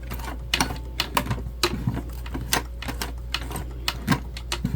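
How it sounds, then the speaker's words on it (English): Sewing machine hand-cranked slowly through a thick part of a fabric bag at the gusset and zipper panel, producing a steady run of soft mechanical clicks and thumps, close and fairly quiet, with no talking. "I'll just hand crank through it again"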